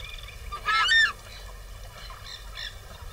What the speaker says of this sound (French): Le shona se distingue par son cri claironnant